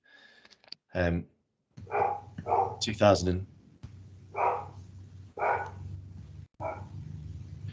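A dog barks repeatedly in several separate bursts over an open microphone during a legal hearing, fairly close and loud, with a voice briefly speaking between the barks.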